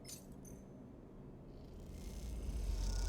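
A cat purring in the Cyberpunk video game: a low, steady rumble that grows louder toward the end, with faint high jingling near the start and no speech over it.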